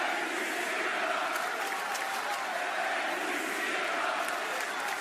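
A large wrestling arena crowd chants "Thank you, Cena" in a dense, steady roar of many voices that carries evenly throughout, with no single voice standing out.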